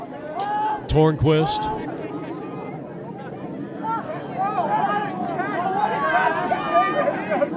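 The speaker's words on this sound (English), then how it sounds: "Crowd making a lot of noise for the most part." Spectators at a high school lacrosse game, Salpointe Lancers at Sabino Sabercats, keep up a steady crowd murmur and hubbub in the background beneath continuous play-by-play commentary.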